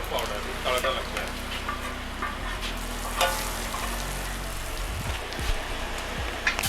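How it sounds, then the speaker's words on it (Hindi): A tadka of garlic, whole dried chillies, cumin and red chilli powder sizzles steadily in hot oil for masala khichdi at a roadside dhaba, crackling near and continuous with faint stirring scrapes and a low background hum. "लाल कलर मिर्ची पाउडर, तड़का लग गया।"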